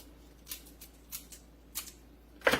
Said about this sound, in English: This is some scissors with a cool curve.